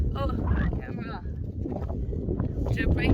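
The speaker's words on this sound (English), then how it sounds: "I did not factor in how windy it is" Wind buffets the microphone with a steady low rumble throughout, while a person talks over it.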